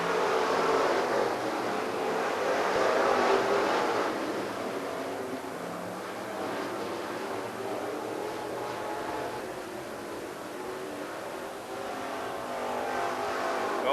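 Race cars battling at Farmer City Raceway, a dirt oval, with a continuous distant roar of engines swelling and fading as the pack circles the track.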